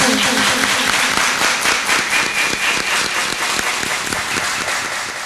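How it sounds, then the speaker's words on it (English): An audience gives loud, sustained applause for a speaker at a conference, with many hands clapping densely and steadily throughout and a brief held tone under the opening moment. "Big applause for Professor Ömer Adıgüzel."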